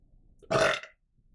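One short, loud, throaty burp close to the microphone, lasting about half a second, surrounded by near silence.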